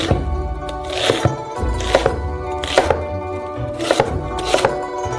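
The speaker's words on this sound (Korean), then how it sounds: "양파를 큰 조각으로 썰어주세요." Knife chopping an onion into large pieces on a cutting board while making shawarma, a steady series of close, crisp thunks in an irregular rhythm with no talking.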